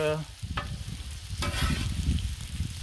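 Jasmine rice fries on a Blackstone griddle as a spatula stirs and scrapes through it, steady sizzling broken by metallic clinks.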